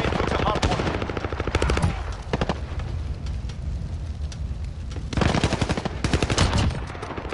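Rapid sniper rifle shots crack out in Modern Warfare gameplay, loud bursts of repeated reports clustered near the start and again toward the end, with a quieter stretch of game noise between them.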